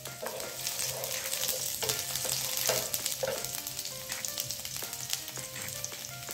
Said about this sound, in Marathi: मी याच्यामध्ये आता लसूण एक 5-7 पाकळ्या बारीक कट करून घेतलेल्या आहेत।